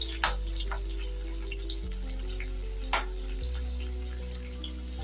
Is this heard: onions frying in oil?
yes